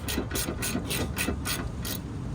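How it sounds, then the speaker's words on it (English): Ratchet clicking while car bolts are snugged during a Lexus IS300 spindle swap: seven quick bursts of metallic ratcheting in an even rhythm, close and clear with no talk. "Gonna get these bolts in. Not super snug, but snug enough."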